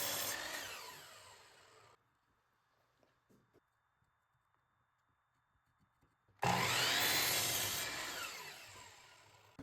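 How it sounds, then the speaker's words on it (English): A wooden 2x4 is sawn flat at a 5-degree angle, loud rasping strokes for about two seconds, then a quiet pause with faint light knocks, before a second burst of loud sawing near the end. "Cut a 2x4 flat at 5 degrees"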